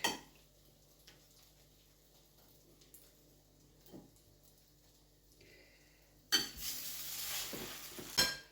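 Batter poured onto a hot tawa griddle for a quick breakfast, sizzling bursts out loud in the last couple of seconds after a stretch of quiet kitchen clinks and stirring.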